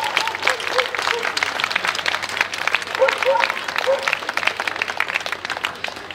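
Dense, steady clapping from a sizable crowd at an Easter demonstration in Oldenburg, sustained throughout with a few voices mixed in underneath.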